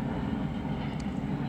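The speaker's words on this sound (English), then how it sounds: "Excuse the plane flying above." An airplane flies overhead outdoors, heard as a faint, steady low rumble throughout the short moment, with no other clear sounds.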